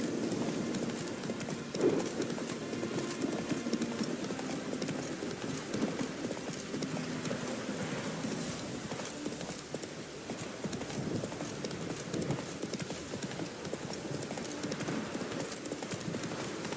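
Roach the horse gallops in The Witcher 3 with a fast, steady clip-clop of hooves over a dense layer of wind and ambient rumble, and a short whinny-like sound comes near the start.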